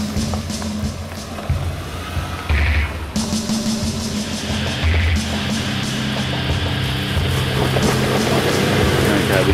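Suzuki Grand Vitara pulling away with brief wheel slip before traction control intervenes, a loud continuous engine and tyre roar with surging bursts, heard from inside or near the car.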